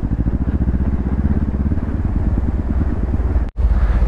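Motorcycle ridden slowly at 25 to 30 on a rough, broken road in Kashmir, its engine thrumming loudly and close with steady rhythmic pulsing and a brief dropout near the end.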